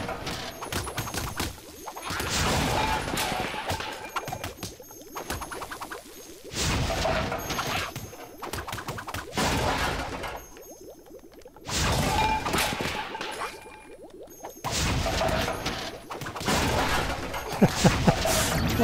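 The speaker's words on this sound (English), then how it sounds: "What does it take to destroy this cauldron?" A cauldron is repeatedly struck in Disney Infinity 3.0's Gravity Falls setting, with loud bursts of crashing, whooshing hits coming in several clusters separated by short quieter gaps.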